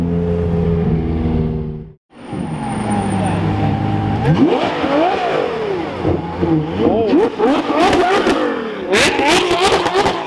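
Loud car revving hard at a hill climb during a Ferrari event, repeated sharp throttle blips and rising engine wails up close, with people talking over it.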